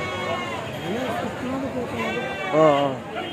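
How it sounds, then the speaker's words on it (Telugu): A herd of male goats bleats at a Tuesday goat and sheep market in Kadiri, with several wavering calls overlapping and one loud, close bleat near the end, all under steady crowd chatter and nearby talk. "గుంపు అయితే ఉన్నది, మేకపోతుల గుంపు."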